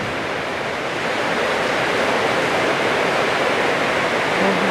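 Heavy rain driven by strong wind, a loud, dense, continuous roaring wash of water that swells slightly as it goes, with no voices over it.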